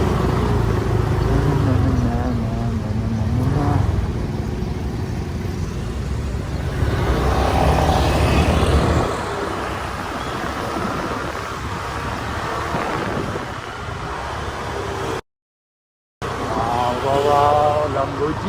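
A 2026 Lamborghini Revuelto supercar rumbles and revs nearby among other cars, its engine drone rising and falling under wind and frequent voices chatting close by.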